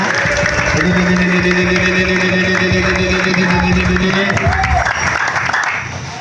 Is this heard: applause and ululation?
yes